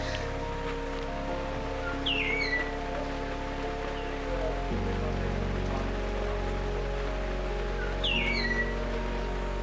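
Rain falls on a university campus as a soft, steady hiss under a low droning hum, with a couple of faint bird chirps breaking through.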